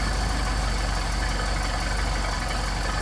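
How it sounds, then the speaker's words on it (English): A Solex-carbureted car engine idles through a cold start, a steady, continuous mechanical drone with an even low rumble and constant loudness, heard up close with no talking. "as the engine gradually warms up"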